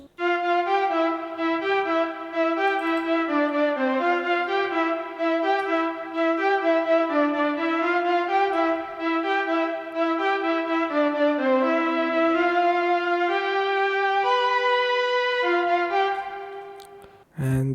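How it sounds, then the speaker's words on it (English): A synth tremolo-strings preset plays a steady, sustained melodic line with shifting harmonies, bright and continuous for the whole stretch, loud and up front with no voices, cutting off abruptly at the end. "This is synth one. I've used the tremolo strings."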